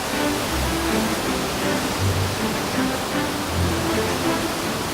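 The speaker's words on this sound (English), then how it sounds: "Incredible waterfall here." Rainbow Falls near Black River Harbor, swollen after recent rain, roars from an observation deck right beside it: a loud, steady, broadband rush of falling water with no break and no voices.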